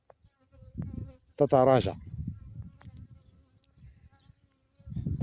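Honeybees buzzing around a beehive, a soft hum running under someone speaking Arabic.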